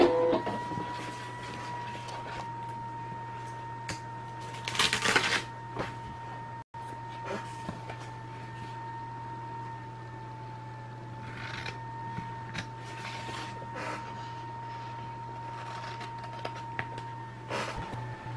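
A cutting machine slices a small holly design, giving a steady mechanical whir with a constant hum and scattered clicks and carriage movements. It runs fairly quietly and without pause for the whole stretch, with no talking.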